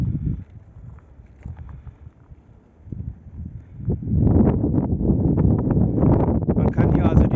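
Wind gusting at a reservoir viewpoint above the Manavgat dam lakes in Turkey, starting faint and rising into a steady, close, blustery rush that buffets the microphone, with someone speaking German over it.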